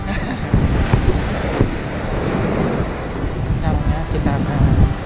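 Surf rolling onto Kedung Celeng beach in south Malang, a steady broadband wash with gusty wind buffeting the microphone and a few louder swells breaking nearby.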